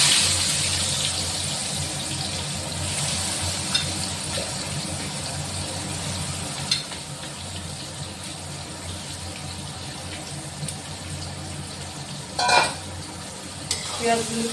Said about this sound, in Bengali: পেঁয়াজগুলোকে লাল লাল করে ভেজে নেব।